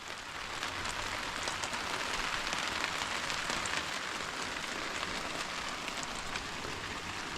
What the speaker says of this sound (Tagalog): Maganda na at may ulan.